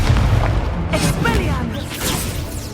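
An Incendio fire spell is cast in the Hogwarts Legacy video game, giving a dense, roaring burst of flame and booming impacts under a voice, with the noise holding loud throughout.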